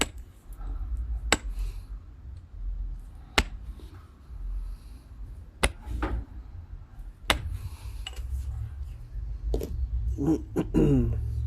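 Pressure flaking an opalized glass knife blade, producing sharp isolated clicks and snaps at irregular intervals over a low background rumble, with a few scraping bursts near the end.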